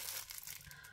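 Plastic bags holding yarn bought at a shop in Brighton crinkle softly and continuously, a faint close rustle of thin plastic being handled with no one speaking.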